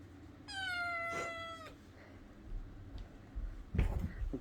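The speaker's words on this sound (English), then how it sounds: "That meowing noise is so cute." A kitten gives a single clear, drawn-out meow up close, followed by faint rustling and soft handling noises in a quiet room.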